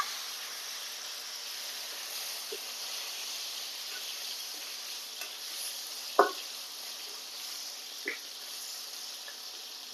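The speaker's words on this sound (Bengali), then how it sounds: "এবার দিয়ে দেবো কেটে রাখা আলু।" Cut potatoes fry in a pan of oil with whole spices, cumin, a bay leaf and dried chili, a steady soft sizzle broken by a few brief stirring clinks.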